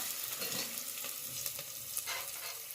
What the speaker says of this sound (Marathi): आता भाजलं चांगली कांदा भाजला मिरची भाजली कडीपत्ता भाजला